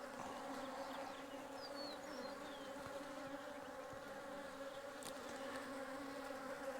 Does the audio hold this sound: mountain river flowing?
no